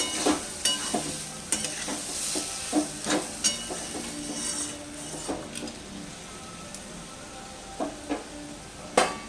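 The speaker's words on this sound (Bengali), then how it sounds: "আবারও নাড়াচাড়া করে ঢাকা দিয়ে দিলাম" Bottle gourd and shrimp cooking in a pan, stirred with a spatula that clinks and scrapes in scattered strokes over a soft continuous sizzle and hiss, close by, with no talking.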